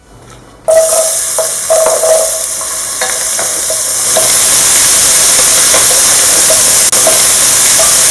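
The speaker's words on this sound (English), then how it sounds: "please make your vegetables dance when you put them in the pan" Vegetables dropped into a hot pan for a Cajun chicken and shrimp gumbo burst into a loud, sudden sizzle that builds into a steady, intense frying hiss with stirring clatter.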